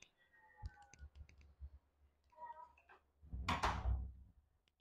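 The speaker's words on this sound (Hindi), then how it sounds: "मैं दरवाजा बंद करता हूँ।" Someone shuts a room door indoors: faint clicks and shuffling at first, then a louder thud and rattle of the door closing near the end, heard quietly and close with no talk.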